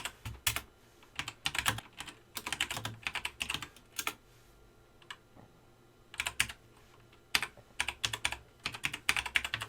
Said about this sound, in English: just type in a few different keywords